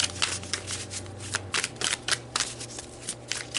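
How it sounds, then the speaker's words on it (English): Deck of tarot cards being shuffled up close, a run of crisp riffling flutters in quick repeated bursts over a low steady hum. "So let's pull just a few more cards for you guys."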